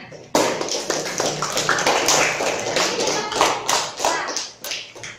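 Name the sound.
applause for Herna's performance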